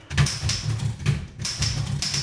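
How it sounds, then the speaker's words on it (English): Rapid keystrokes tap out on a typewriter in irregular bursts with short pauses, close and fairly loud. "It's a typewriter."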